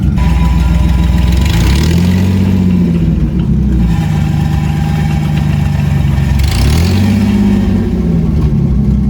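A $50 junkyard Ford Mustang's engine idles loudly up close, then revs up twice with rising and falling pitch swells, settling back to a rough idle between and cutting off at the end, with no talking.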